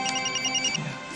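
A telephone rings close by in a short electronic ringtone burst with pulsing, repeated tones and no talk over it.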